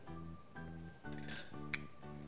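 A spoon stirs crispy bacon in a pan, giving a run of metallic clinks and scrapes that repeat roughly every half second, close and fairly quiet.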